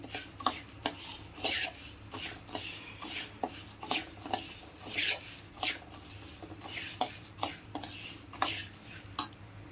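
Sambar powder spices are being dry-roasted in a pan. A spoon scrapes and taps against the metal again and again in a steady, uneven rhythm, close and fairly soft, with no talking.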